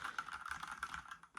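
Rapid, steady keystrokes on a Redragon mechanical wired gaming keyboard with red switches, close and fairly quiet, with light clacking taps in an uneven rhythm and no voices.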